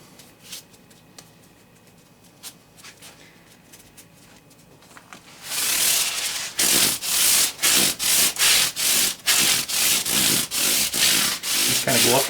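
A Squier Fender Stratocaster's frets polished with 1500 grit sandpaper, rubbed up and down the fretboard in a steady series of loud, rhythmic scratchy strokes up close after a few quiet seconds.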